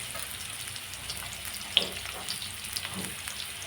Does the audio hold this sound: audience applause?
no